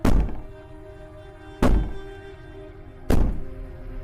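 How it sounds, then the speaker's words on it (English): Three heavy thuds of a princess banging on a door in the video game Slay the Princess, evenly spaced about a second and a half apart, each booming impact ringing briefly with a low resonant tail. "Maybe the banging and wailing will stop if you just don't pay attention."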